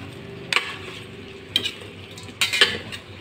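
Crispy shrimp get stirred in a nearly dry pan, with three distinct bursts of scraping and clattering from the utensil over a quiet background sizzle, close by and without speech.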